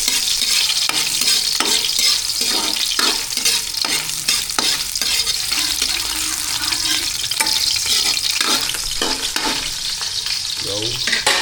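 Ginger frying in a pan for a mussel dish, a steady loud sizzle broken by repeated scraping strokes of a spatula stirring it, close by and with no talk.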